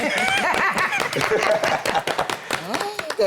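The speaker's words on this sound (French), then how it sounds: "On va applaudir." A TV studio audience breaks into applause, a dense patter of clapping mixed with light laughter, under a speaking voice throughout.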